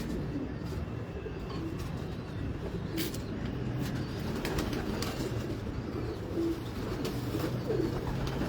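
Frillback pigeons coo in a low, soft, repeating murmur close by, kept alongside other fancy pigeons, with faint traffic in the background and no speech.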